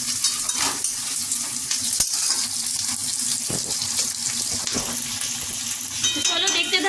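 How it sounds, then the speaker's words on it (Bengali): Mutton curry being fried and stirred in a kadai after coming out of a pressure cooker, with a steady sizzle, spatula scrapes and a few sharp knocks, no talking. "কুকার থেকে মাটনটা চলে যাচ্ছে কড়াইতে। এবার এখন ভালো করে এখানে কষানো হবে"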